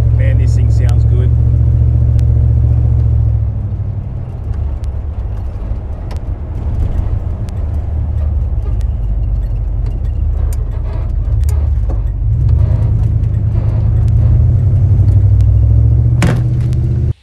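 A 1957 classic car's engine idles steadily with a deep, loud rumble and light mechanical clatter, holding a constant low throb for the whole stretch with brief revving swells, up close and alone.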